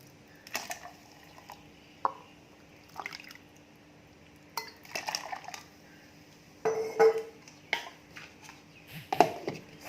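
Water goes into ground oats in a blender jar for homemade oat milk, with intermittent splashes, drips and light clinks of the container, moderately close and without talk.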